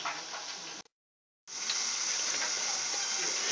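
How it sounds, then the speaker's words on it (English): Potato-crusted pollock fries in hot oil with a steady, dense sizzling hiss that cuts out briefly near the start, then resumes evenly and fairly quietly. "So just let those fry for a few minutes."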